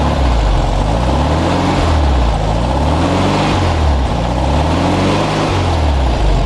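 A freshly restored vintage VW Beetle's air-cooled engine revs under hand throttle, a loud, steady close-up drone rising and falling in a few smooth swells, with no talk over it.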